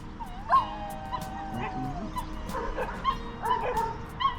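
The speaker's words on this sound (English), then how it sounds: "Dogs barking." Several dogs barking and yipping from a rooftop in a Portuguese town, mid-distance, in scattered short bursts with some whimpering over a faint outdoor background.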